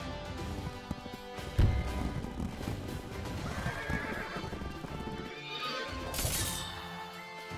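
In the video game Wargroove, a horse unit charges with a loud whinny, clattering hoof clip-clops and a heavy impact, then gives a second, higher neigh near the end, all over a busy battle soundtrack.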